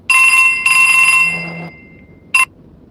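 Loud, close electronic phone ringtone plays two long bursts, fades out, then gives one last brief ring, still sounding after the call was declined.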